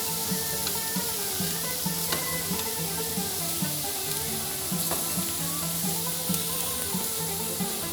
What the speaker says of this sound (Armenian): Այս խոշոր սոխերը պիտի տապակեն։